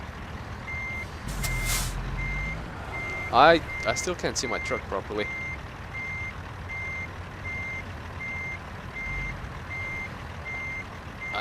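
Truck reversing beeps from American Truck Simulator repeat steadily at a moderate level over a low idling engine, with a brief air-brake hiss and someone talking over the start.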